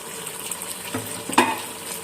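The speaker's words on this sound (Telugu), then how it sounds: "ఇక్కడ మనం కట్ చేసి పెట్టుకున్న టమాటోస్ ఇంకా ములక్కాయలు వేస్తున్నాం మేము" Chopped tomatoes and drumstick pieces dropped into a hot pan, a soft frying hiss building to a couple of louder clattering thumps near the end as they land, no talking.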